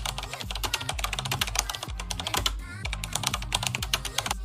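Fast, close clicking of keys on a computer keyboard as a blog title is typed, a dense run of crisp taps at an uneven rhythm with no speech.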